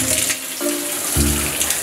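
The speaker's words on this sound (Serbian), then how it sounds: "upalim vodu na lavabovu" A bathroom sink tap runs in a steady stream, with water splashing into the basin close by; the flow shifts in pitch a couple of times as it hits, and nobody speaks.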